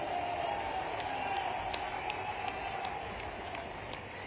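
Crowd applause at a public inauguration ceremony for an Ayurvedic college and hospital and new schools, a steady, fairly faint wash of many hands clapping from a distance, with occasional sharper claps standing out.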